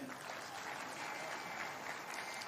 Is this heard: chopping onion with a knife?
no